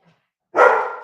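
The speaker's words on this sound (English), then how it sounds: "Oh, there she goes again. She's going. The dog's going again. She's excited." A single loud, close bark from an excited dog, standing alone after brief quiet.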